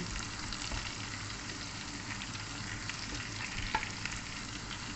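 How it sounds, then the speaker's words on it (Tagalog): Chili fries in hot oil with a steady crackling sizzle, soft spatters popping now and then, continuous and close. "Iprito muna natin yung chili."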